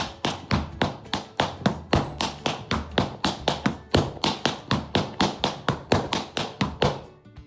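Bloch Jason Samuels Smith tap shoes tapping on a hard floor, a fast run of crisp, loud metallic taps and heel thuds in an uneven, syncopated rhythm that keeps going for over seven seconds with no voices.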